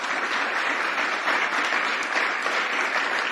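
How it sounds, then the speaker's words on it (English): A roomful of people claps steadily at a Juneteenth freedom celebration, a dense, sustained wash of applause at even loudness throughout with no pauses. "She's just looking around at everyone clapping"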